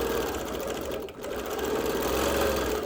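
Sewing machine quilting an outline stitch around the edge of a heart, running steadily with a fast, even mechanical chatter and a momentary dip partway, close and loud with no talking.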